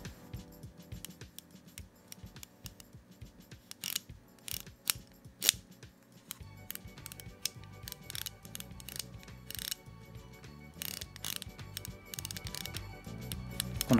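Crisp aperture ring clicks from a Carl Zeiss Planar T* 50mm f1.4 AEJ lens for Yashica Contax, heard up close as quick, irregular ratcheting detents, alone and fairly quiet, with no voices.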